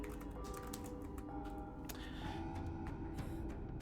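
Soft clicks of typing on a computer keyboard, faint and irregular over a steady low background hum, with no voices.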